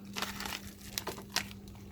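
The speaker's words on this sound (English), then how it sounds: "Let's get the plastic all the way off." Plastic packaging is crinkled and pulled off a newly unboxed item, likely a chainsaw with an Oregon chain, giving soft close rustles and a few sharper crackles over a steady low hum.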